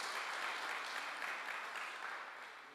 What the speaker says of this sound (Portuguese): Se você crê nisso, aplauda ao Senhor